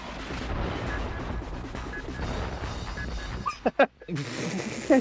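A game explosion in Twin Caliber bursts out near the end, with sharp blasts and a hissing, crashing tail after a stretch of busy game noise and low rumble.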